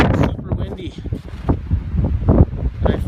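Strong, gusty wind outdoors at a cold winter tent camp buffets the microphone in rough, low, rumbling surges that swell and fade throughout.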